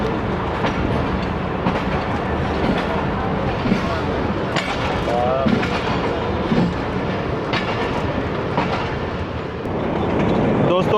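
The 13UP Awam Express rolls slowly out of the Lahore Junction yard, loud steady rumble with rhythmic clickety-clack of wheels over rail joints and brief squeals, heard from on board, with voices in the carriage.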